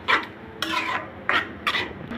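Carrot halwa with milk stirred in a pot, four or five distinct scraping strokes of a spoon against the metal in an uneven rhythm over a quiet background.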